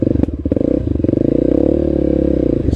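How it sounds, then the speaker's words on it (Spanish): A Voge 300 Rally motorcycle rides a muddy dirt track through wet grass, its single-cylinder engine thumping loudly and close in a steady, rapid pulse, with clattering and knocks from the rough ground. "Llevamos una Vogue 300 Rally."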